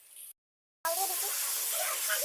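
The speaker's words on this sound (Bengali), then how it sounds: "এগুলো অল্প জল দিয়ে দিচ্ছি" Water is splashed into a hot pan of spiced potato and egg masala: after a brief silence, a steady, close sizzling hiss rises and holds.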